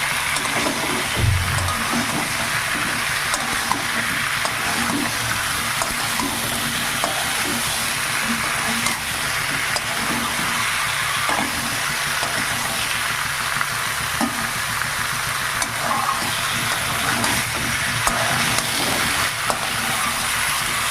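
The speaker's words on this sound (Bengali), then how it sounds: "আবার জিরে বাটা মশলার সঙ্গে পেঁপেটাকে আগে একটু ভালো করে কষিয়ে নেবো" Papaya pieces sautéing in ground cumin spice paste, a steady close sizzle and frying hiss with occasional soft stirring scrapes, continuous throughout with no talking.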